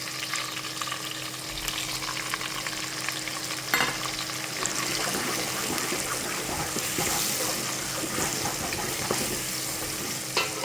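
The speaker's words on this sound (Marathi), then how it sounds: "कांदा, टोमॅटो आणि लसूण छान असा परतून झाल्यानंतर त्यामध्ये टाकायचे आपले मसाले" Spices frying in hot oil with onion, tomato and garlic, a steady close sizzle with stirring scrapes and clinks running the whole way through.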